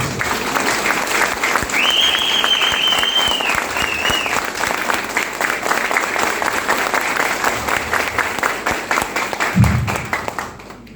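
A crowd claps loudly and continuously at a milestone recognition event, sustained applause holding steady throughout with a brief whistle-like tone early on and a soft thump near the end.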